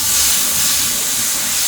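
Loud, steady hiss of steam as a little water hits Kashmiri chilli powder and cumin paste frying in a pan, a continuous broadband sizzle filling the whole moment with no talk.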